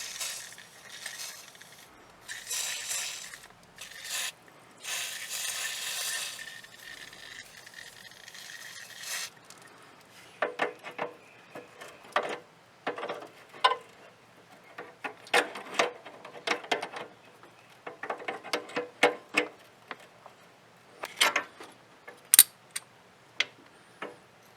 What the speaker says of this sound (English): I'm going to have to disconnect this wing nut from the cable itself